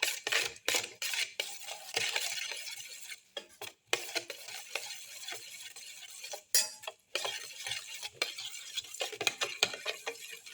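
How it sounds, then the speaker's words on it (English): Salt being mixed into green omelette batter with fenugreek and black pepper, rapid close scraping and clinking of a utensil against a bowl, with uneven strokes and brief pauses, no voices. "Mix in the salt."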